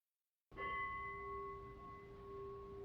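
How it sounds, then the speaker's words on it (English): A single meditation bell is struck once to close a sitting meditation, a clear ring after silence that hums on with a long, steady fading resonance. "we'll be here to hit the bell to end the meditation"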